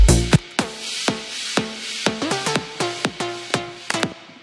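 Synthesizer melody from a track in Ableton, plucky bright notes in a steady repeating pattern with quick decays, close and moderately loud, playing alone with no talk.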